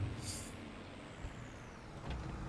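Air brake hiss from a Ford truck slowing in Farming Simulator 22, a short sharp release at the start followed by a steady engine rumble, with a faint second hiss near the end.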